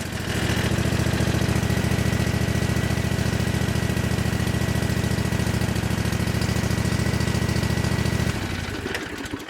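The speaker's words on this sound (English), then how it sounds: "So when you start an engine up like that" A Cub Cadet RZT 50 riding mower engine runs at a loud, steady idle with a dense, even rumble, then cuts off abruptly near the end.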